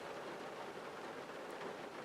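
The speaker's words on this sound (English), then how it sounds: "It's actually quite a nice rain we're having." Rain falls outside as a steady, soft, even hiss of drops with no pauses and no voices.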